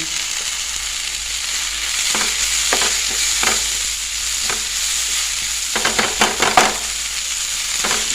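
Steady, close sizzling of tomatoes frying in a pan, with a few scraping stirs and clinks toward the end, no voices.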